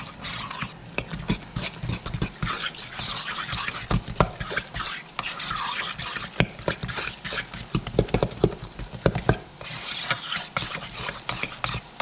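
Ricotta being mixed with pasta sauce in a bowl for lasagna, giving a continuous close scraping, squelching stir with quick repeated strokes and clicks of the utensil, alone with no voices.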